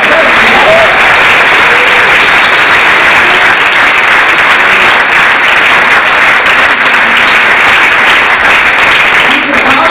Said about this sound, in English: we should give them a big applause, by the way